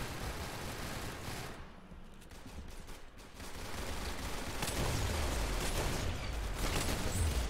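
Rapid gunfire in the Roblox shooter Arsenal, with dense bursts of shots crackling continuously and growing louder toward the end.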